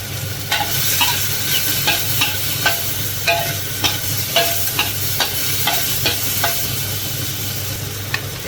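Cabbage stir-frying in a pan with salt: a continuous sizzle underneath repeated scraping strokes of a utensil, roughly one or two per second, close and fairly loud, with no talking.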